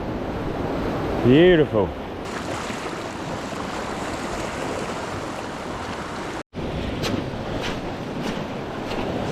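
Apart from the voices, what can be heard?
ocean swell and surf waves at a fishing spot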